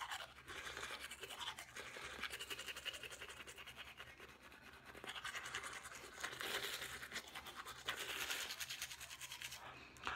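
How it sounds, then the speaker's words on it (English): Close, steady scratchy bristle scrubbing of a toothbrush against teeth, including behind the front teeth, continuing without pause with no talk. "Also, what I do is I like to brush like underneath or behind my front teeth"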